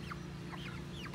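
Chicks and chickens in a brooder peep in a few high, rising chirps over a low steady hum, soft and close.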